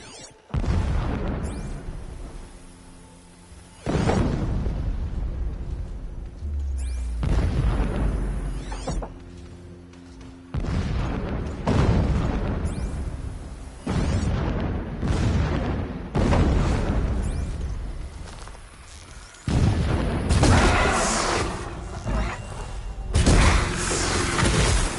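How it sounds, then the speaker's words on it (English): Repeated deep explosions boom in the distance, a series of around eight heavy blasts with rumbling tails, spaced a few seconds apart, some overlapping into longer roars near the end. "explosions in the distance. Pay that no mind."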